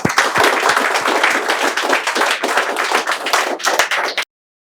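A crowd applauds loudly and steadily, a dense wash of many hands clapping at once, with sharper individual claps standing out now and then before the sound stops abruptly.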